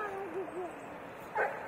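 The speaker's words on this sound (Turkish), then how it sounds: "Yine havlıyorlar bu köpekler." Dogs yip and whimper faintly in the distance at Kaisergarten park in Oberhausen, with a few short wavering cries and a slightly louder bark near the end over quiet outdoor background.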